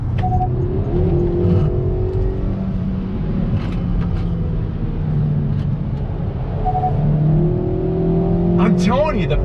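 A 2020 Kia Forte GT sedan accelerates hard with a steady engine drone and rising harmonics, loud and close throughout, while someone talks over it.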